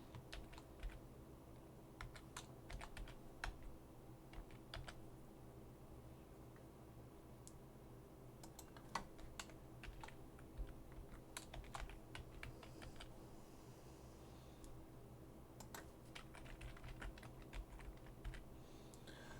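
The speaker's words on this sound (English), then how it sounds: "So let's type in a new password." Keys clatter steadily on a computer keyboard as a new password is typed, a run of quick light clicks in uneven bursts over a low room hum, with no voices.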